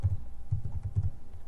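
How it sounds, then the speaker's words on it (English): Quick bursts of keystrokes on a computer keyboard as a command is entered in a Linux terminal, close and clicking in short clusters. "now here you will type in a command"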